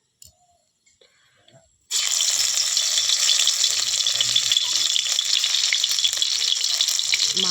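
Oil heating in a pan on a village stove before fish, potatoes and cabbage go in, a sudden loud sizzle that starts after a near-silent moment and then crackles steadily up close.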